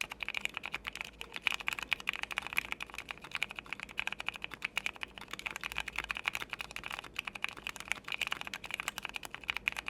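Steady, fast typing on a fully modded Keychron Q1 mechanical keyboard with Vissles VS2 switches, a dense stream of clicky keystrokes heard close up with no talking.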